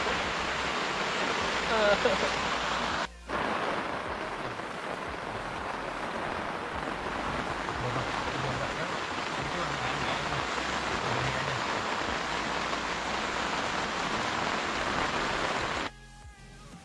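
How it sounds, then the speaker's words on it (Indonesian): Heavy rain pours outdoors at night around a campsite tent, a dense, steady roaring hiss that stays loud and close throughout, broken only by a brief dropout early on and near the end. "Hujannya deras banget."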